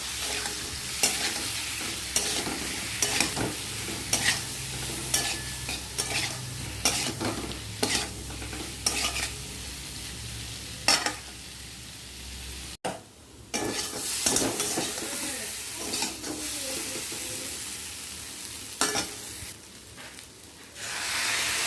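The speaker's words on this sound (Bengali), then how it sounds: "সিদ্ধ করা ওলটা দিয়ে দিয়েছি, নুন হলুদ দিয়ে দিয়েছি, একটু সামান্য ভেজে নেব।" Boiled elephant foot yam with salt and turmeric fries in oil, a steady close sizzle and hiss broken by repeated scraping stirs and spoon-on-pan knocks, pausing briefly partway before the frying resumes.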